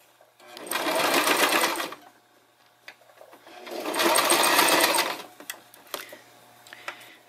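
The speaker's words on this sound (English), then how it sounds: "You start to sew, back stitch" A sewing machine stitches a felt eyeglass case with back stitching in two sustained runs, each about a second and a half, separated by a pause; close and fairly loud, with only faint handling sounds between.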